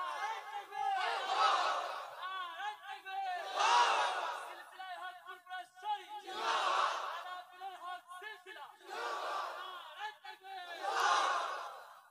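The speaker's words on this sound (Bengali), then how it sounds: "তাকবীর মারো দেখি।" A large crowd at an Islamic religious sermon gathering chanting the takbir in unison, five loud, swelling shouted phrases in a steady rhythm with short pauses between them.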